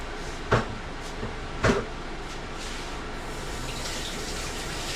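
Tap water runs into a home-cooked evening meal, a continuous splashing flow broken by two sharp knocks early on, with no speech.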